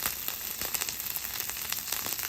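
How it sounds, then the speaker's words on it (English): Butter melts and sizzles on a hot Blackstone flat-top griddle, giving a steady close hiss with faint crackles throughout and no talking. "Make yourself a well, let that butter melt."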